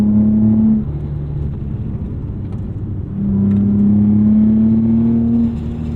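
A 2006 Infiniti G35 drones steadily from the exhaust while driving, a low continuous hum that swells louder for a few seconds mid-drive, then eases back, heard from inside the cabin without talk.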